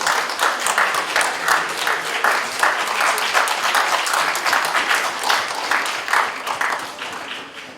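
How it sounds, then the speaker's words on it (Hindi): An audience at a valedictory ceremony claps in sustained, crackling applause, fairly loud and even throughout before tapering off at the end. "किसी ने आपको उकसा दिया ताली बजाने के लिए"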